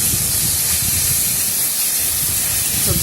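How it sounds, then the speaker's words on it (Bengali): Mixed vegetables frying with sugar in a pan for a sago pulao, producing a loud, continuous close-up sizzle and hiss with a low rumble of stirring, no speech. "সবজিটা যতক্ষণ না সেদ্ধ হয় ততক্ষণ সবজিটা ভাজতে থাকবে"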